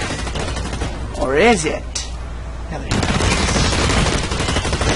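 Gunfire from a weapon in the video game Blacklight Retribution comes in a brief burst, followed by a loud sustained stretch of shooting, while a person speaks briefly over it.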